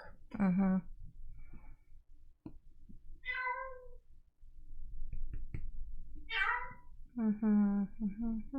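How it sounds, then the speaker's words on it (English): A cat yowls in a home during a board game session, with several drawn-out meows at intervals, near and fairly loud, while people talk in between. "That's a yowly cat."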